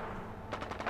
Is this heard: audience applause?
no